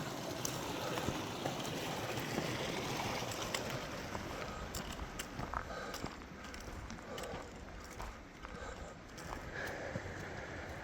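Creek water streams steadily past a snowy hiking trail where an ice shelf overhangs the bank, a continuous close, moderately loud rushing wash with scattered small splashes throughout.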